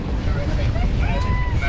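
A sailboat under way on the open ocean on the approach to Sydney, with steady rushing wind buffeting the microphone and water wash filling the short moment.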